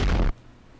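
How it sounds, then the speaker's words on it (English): A single heavy explosion in a modded Minecraft game, a loud broadband blast lasting about a third of a second and then cutting off abruptly into quiet. "enough with the explosions"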